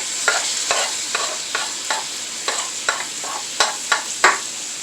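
Onion, garlic and peppers fry in oil for Dominican-style chofan fried rice: a bright steady sizzle broken by about a dozen regular scraping stirs of a spatula against the pan, close and clear with no talking.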